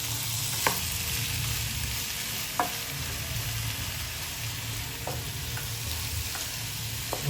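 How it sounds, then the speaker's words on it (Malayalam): Rice and meat are stirred in a pan with coconut oil, giving a continuous frying hiss with a few sharp spoon scrapes and knocks scattered across the clip. "നല്ലോണം ഇളക്കി കൊടുക്കാം"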